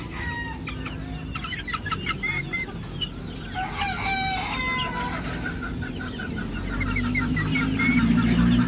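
A group of young chicks kept for marking peep constantly in high, clustered chirps close by, with lower clucking and farm rustle swelling toward the end.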